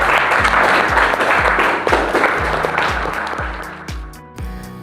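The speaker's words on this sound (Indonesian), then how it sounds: "Tepuk tangan terus." Audience applause during a school building design presentation, steady clapping over a repeated rhythmic low thumping musical beat, fading somewhat toward the end.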